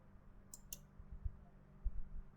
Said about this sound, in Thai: เราก็มาคลิกที่ส่วนของจุดนี้ครับ